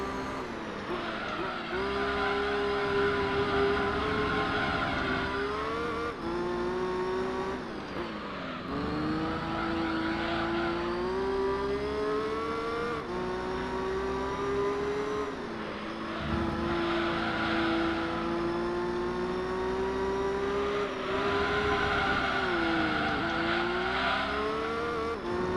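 Race car engine from Gran Turismo 3 droning steadily through laps, a loud continuous whine rising and falling with gear changes and throttle, close and unbroken for the whole stretch.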